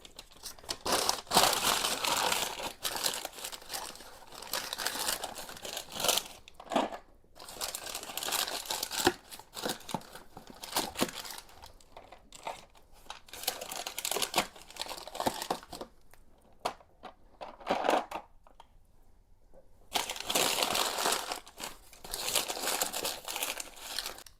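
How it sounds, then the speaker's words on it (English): Packing paper crumpled and crinkled by hand while wrapping glass makeup bottles for a move, in repeated bursts of crisp rustling with short pauses between, close and fairly loud, no talking. "I have some spare Amazon paper that I'm going to be using, mostly just to wrap up all the glass bottles here"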